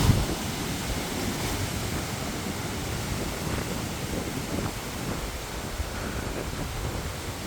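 Strong wind roaring past a microphone by the water at low tide, a loud continuous rumbling buffet with waves mixed in, steady throughout with no talking.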